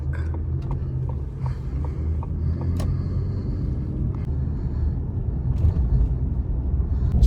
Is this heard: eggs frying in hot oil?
no